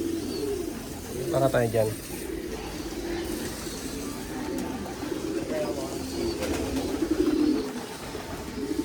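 A large flock of pigeons coos in overlapping low, throaty calls throughout, with a person speaking briefly near the start.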